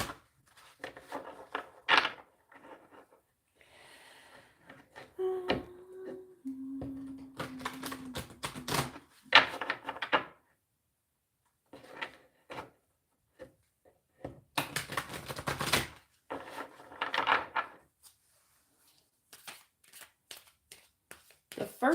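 Meditation cards are handled and shuffled in bursts of crisp riffling and flicking, with pauses between, close up, and a brief steady tone partway through.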